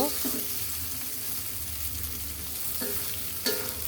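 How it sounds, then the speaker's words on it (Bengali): A spoon scrapes and stirs through eggplant and prawn curry sizzling in a pan on the stove after roasted cumin powder goes in, a steady frying hiss with a few sharp scraping strokes, no talking. "ভাজা জিরার গুঁড়া দিয়ে আমি নেড়ে এরকম তেল উঠে আসলে আমি চুলা থেকে নামিয়ে নিব"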